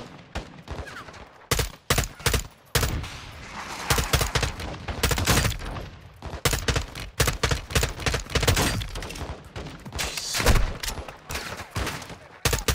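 Sustained bursts of M4 rifle fire in the Call of Duty Modern Warfare 2 campaign, loud and close, with rapid automatic volleys running almost continuously with brief gaps, mixed with thuds and impacts.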